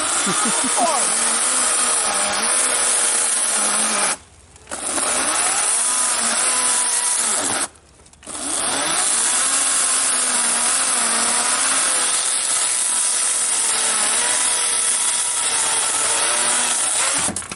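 A small battery chainsaw whines steadily as it cuts through a peach tree branch, loud and close, with two brief pauses where the motor drops off before biting in again.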